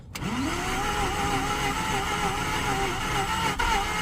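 A 2009 Mazda RX-8 engine is cranked and catches, giving a close, steady mechanical drone with a tone that rises at the start, holding for about four seconds.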